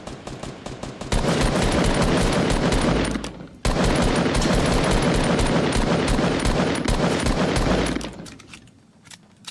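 Rapid sustained gunfire in the Fortnite Battle Royale video game, a dense loud burst running for several seconds, cutting out briefly, then resuming before fading away.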